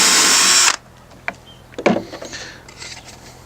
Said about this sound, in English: You see I'm drilling through into another piece of wood.